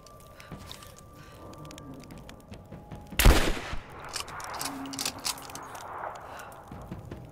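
Gunfire from the video game Rise of the Tomb Raider, with one loud sharp blast followed by scattered smaller shots and clatter over quiet game ambience.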